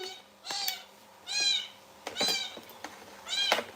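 A cat meows four times in drawn-out, wavering cries spaced about a second apart, fairly close and clear over a quiet background.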